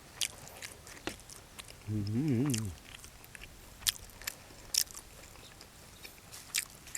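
Stewed Thai pork leg eaten close up, with sporadic wet bites, chews and soft crunches across the span, and a short hummed vocal sound in the middle.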